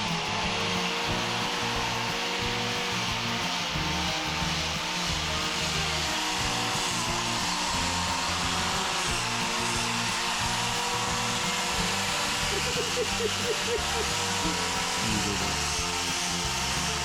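Steady harsh grinding of a homemade mirror stay being shaped by a power tool, loud and continuous throughout with a constant buzzing drone.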